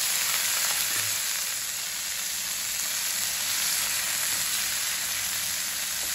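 Asafoetida drops into mustard seeds and cumin already sizzling in hot oil, giving a steady, dense crackle and hiss heard close up and alone, with no pauses.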